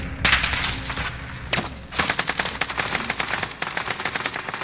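Rapid automatic gunfire in Call of Duty Warzone on Rebirth Island, loud, close bursts firing from behind in quick repeated volleys with brief pauses between.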